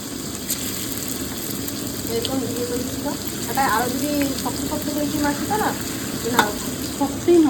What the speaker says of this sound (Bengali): দেখো মা এখন আলু ভাজা করছে আর কিন্তু পকোড়া বানাচ্ছে